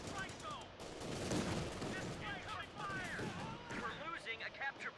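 Dense rifle and machine-gun fire crackles steadily in a Company of Heroes battle with USF forces, with close bursts and booms layered beneath a voice speaking over the action.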